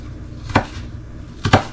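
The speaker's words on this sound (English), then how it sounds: "I'm just kind of rough chopping my vegetables" A knife rough-chops vegetables for a homemade tomato sauce on a cutting board, two sharp, close thuds about a second apart, loud and alone against a quiet kitchen background.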